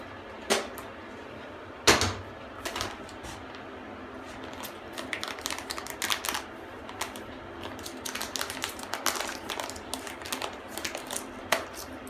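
A bath fragrance package is torn and opened with irregular crinkles, clicks and rustles, close by, over a quiet steady heater fan hum.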